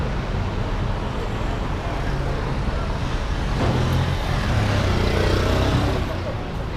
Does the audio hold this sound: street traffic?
yes